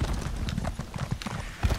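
Quick clip-clop of horse hooves trotting at a steady rhythm in The Elder Scrolls Online, fairly close, with a faint snort mixed in.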